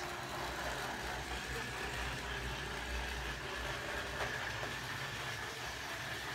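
An old Trix Express E110 model electric locomotive runs along the track pulling a single wagon, giving a steady, close motor hum and faint rail rumble throughout.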